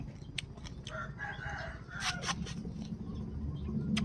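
A rooster crows at a moderate distance outdoors, its call rising over steady background noise with a few faint clucks and bird sounds around it, and no talking.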